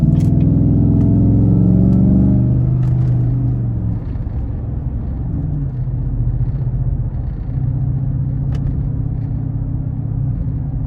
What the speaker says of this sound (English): We'll give it throttle here again.